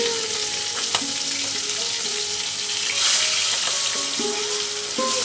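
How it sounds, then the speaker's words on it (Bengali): Fish pieces frying in hot oil in a pan, a loud, constant sizzle and crackle with occasional clinks of a utensil against the pan, close up. "এখন মাছগুলি দিয়ে আস্তে আস্তে সুন্দর করে একটু ব্রাউন কালার হওয়া পর্যন্ত ভেজে নেব।"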